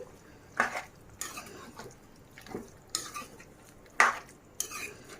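Mutton and drumstick curry with spices being stirred in a pot, a spoon scraping and clinking against the metal in several distinct strokes over a low background.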